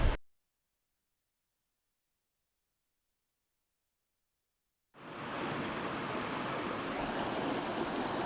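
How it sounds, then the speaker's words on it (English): After a few seconds of silence, a steady rushing of a flowing mountain river starts and continues, broad and even. "I hope you can hear me through the sound of the water"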